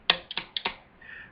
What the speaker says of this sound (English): you will like the sound of the keys closing